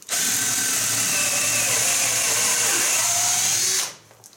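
An AEG BS14 G3 Li 14-volt cordless drill-driver spins at full speed in one continuous, loud, high whine for about four seconds, then cuts off abruptly, leaving near silence.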